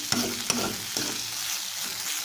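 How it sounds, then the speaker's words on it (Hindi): A spatula stirs and scrapes through leftover rice poha in a hot frying pan, with a few sharp clinks of metal at the start, then a steady, quiet sizzle. "अब मैं इसे मिक्स कर लेती हूँ"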